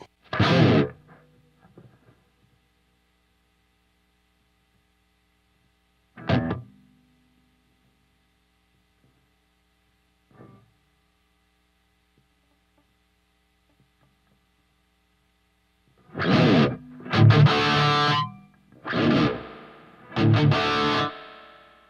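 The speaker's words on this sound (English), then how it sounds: "So let's see what the reverb sounds like." Electric guitar notes and strums through a reverb effect on NAM Player ring out with a washy reverb tail, single plucks separated by long silences, then a cluster of louder strummed chords near the end.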